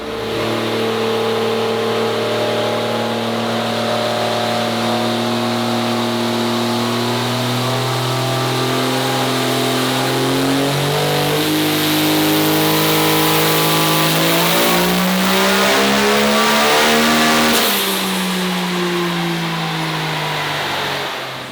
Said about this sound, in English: today we've got Nathan Orr's race truck on the dyno